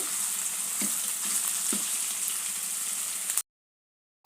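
Ginger paste fries in a pan, a bright steady sizzle with a couple of soft low knocks from stirring, cutting off abruptly into silence near the end.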